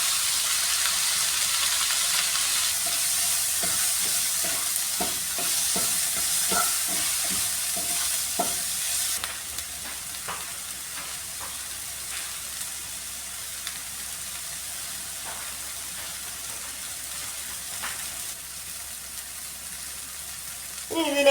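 Chopped tomato sizzles with onions in a hot pan, a soft steady frying hiss that eases after a few seconds, with light stirring taps scattered through.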